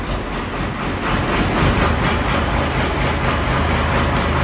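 A Ford 3600 tractor engine runs loud and close at a steady idle, a dense continuous diesel rumble with a regular rapid pulsing beat and no pauses.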